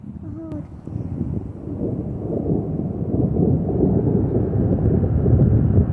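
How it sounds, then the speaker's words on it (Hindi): Deep thunder rolls over mountains in a low, swelling rumble that builds steadily louder over several seconds, with a brief bird call near the start. "ऐसे ही होती है गर्जना, पहाड़ों में गरजता हुआ आसमान"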